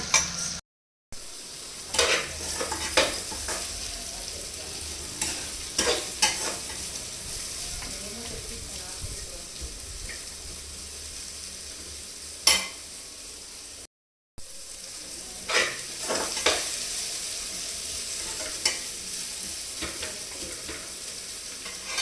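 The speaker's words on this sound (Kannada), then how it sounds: "ನೂಡಲ್ಸ್ ಹಾಕಿ ಮಸಾಲ ಹಾಕಿ ಸಾರ್ಟ್ ಮಾಡಿದ್ರೆ ಮುಗೀತು" Veg hakka noodles with masala being stir-fried in a pan: a steady sizzle and frying hiss runs throughout, broken by scraping stirring strokes and occasional spatula clinks, with no talk.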